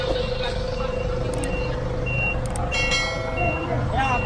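Tow trucks on a cleared street during a towing operation, with a truck's reversing alarm beeping over loud engine rumble and street noise while people talk nearby.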